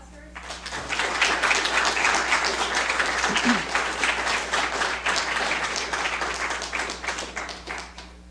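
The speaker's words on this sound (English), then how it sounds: "maybe just a round of applause first" Audience applause for Congressman Dick Zimmer at a 2013 Dwight-Englewood Model Congress Club event, a dense sustained clapping that swells after a quiet start and gradually thins, with faint voices mixed in.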